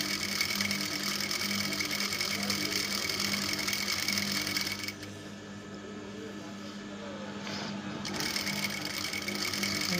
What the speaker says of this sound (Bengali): দেখুন আমি কিভাবে সেলাইটা দিচ্ছি, আমার রাবার আছে এ পর্যন্ত, আমি সেলাইটা দিচ্ছি মাঝখান দিয়ে